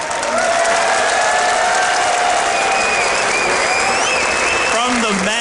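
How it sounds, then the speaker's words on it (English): A crowd at a StarCraft II WCS Season 2 quarterfinal applauds and cheers for Jaedong with continuous, dense clapping and scattered whoops, while an announcer's voice carries over the ovation. "give a big round of applause to E.G. Jaedong moving in to the semifinals of WCS Season 2 Finals."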